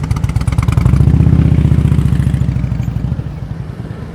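A motorcycle engine idles and putters loudly and close by during slow-speed riding practice in Washington. It swells with a brief throttle rise, then eases back to a steady, clattering rumble.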